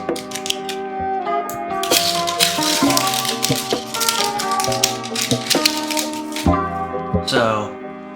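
Packaging for an Apple 140 watt USB-C power adapter is unwrapped up close. It makes dense crinkling, rattling and tapping sounds with a few sharp cracks, and these continue steadily for several seconds.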